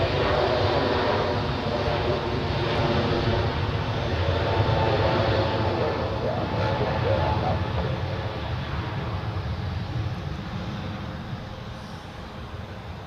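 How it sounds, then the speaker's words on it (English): An Airbus A320 bound for London departs Zurich Airport, its engines a loud, steady broadband roar that holds for the whole stretch and eases slightly toward the end. "Now the A320 to London is departing."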